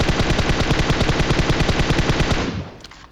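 M249 machine gun firing in a video game, one long sustained burst of rapid, evenly spaced loud shots that cuts off near the end, no voices.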